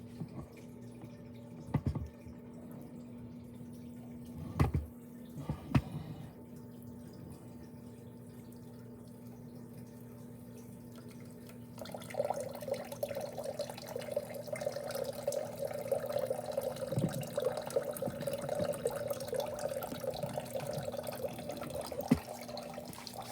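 Water trickles through a classroom stream table, starting as faint scattered drips over a low hum, then turning into a steadier, louder gurgling flow for the second half.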